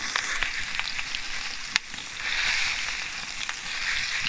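Burger patties fry in clarified butter with a steady close sizzle and crackle, marked by one sharp metallic click partway through.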